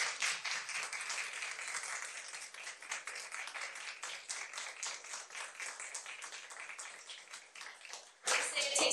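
Audience at a school board meeting claps in a quick scattered patter, fairly faint and thinning midway, before a louder burst of clapping returns at the end.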